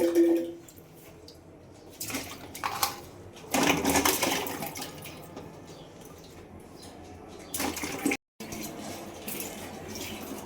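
Crabs are rinsed one at a time under running water, with splashing and gushing from the tap rising and falling in uneven bursts, close by.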